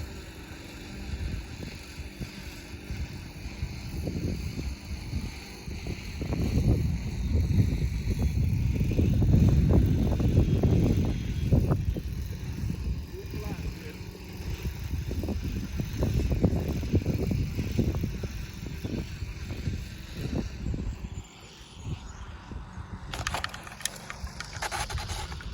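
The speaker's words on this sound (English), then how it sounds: "The wind kind of got me there a little bit." Wind gusting across an open RC jet flying field during an F-22 Raptor session, a loud sustained buffeting roar that swells in the middle and eases toward the end, with no voices.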